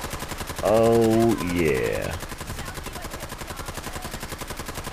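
Rapid, evenly spaced bursts of modded weapon fire launch laser musket projectiles in Fallout 4, a steady machine-like rattle throughout, with someone briefly speaking over it near the start.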